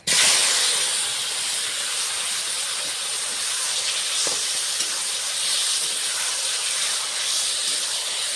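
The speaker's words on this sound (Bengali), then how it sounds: "এখন মেখে রাখা আলুটা দিয়ে দেবো।" Spiced mashed potatoes hit a hot pan with cumin, setting off a loud, steady, close sizzle and hiss that holds evenly for the whole stretch, no talking.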